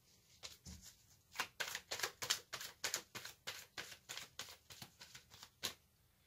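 Tarot cards shuffled and drawn close up, a quick run of crisp riffling flicks and snaps in an irregular rhythm, alone in a quiet room.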